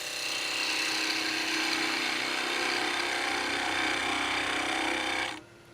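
Wood being cut while carving a tree figure, a steady, dense mechanical grinding that holds evenly for about five seconds and then stops abruptly, leaving quiet.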